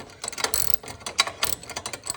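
A ratchet snugging a spark plug into an engine during a car tune-up: a rapid, continuous metallic clicking of the pawl, close and fairly loud, with no voices.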